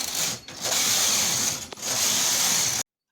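A sewing machine runs plain stitching through baby frock fabric, a loud continuous mechanical whir with two brief dips in pace, then stops abruptly near the end.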